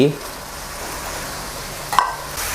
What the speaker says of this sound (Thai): คนคลุกเขาให้หอมและพริกสลด